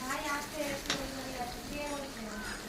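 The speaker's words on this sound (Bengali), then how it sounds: "এখন মশলাটাকে আমি ভালো করে ভেজে নেব।" A spice paste of onion, tomato, ginger and garlic sizzles steadily in a pan, a soft continuous frying hiss with a faint stir or clink, while someone talks over it.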